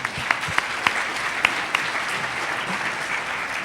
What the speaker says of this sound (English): give him the applause.